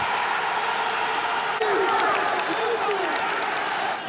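A stadium crowd roars and applauds after Comoros scores against Palestine in a FIFA Arab Cup qualifier, a dense, loud wash of cheering that swells slightly midway and holds steady to the end.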